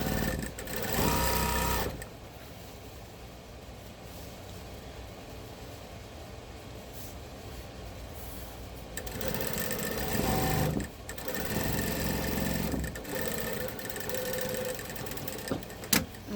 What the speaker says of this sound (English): I'm trying to keep this top stitch as close to the edge as I can